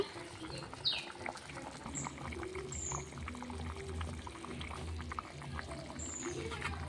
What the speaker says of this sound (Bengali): দেখো তরকারিটা কি সুন্দর টকবক করে ফুটছে।